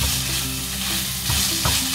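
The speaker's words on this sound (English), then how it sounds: "Now let's mix them all together." Salt being stirred into ingredients sizzling in a pan, a loud, close frying hiss with a couple of quick scraping stirs, and no talking.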